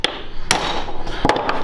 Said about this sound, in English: I take a lump hammer like this